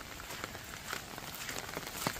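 Rain falling on a morning forest walk, a soft, even patter of drops with scattered closer hits, steady throughout and fairly faint.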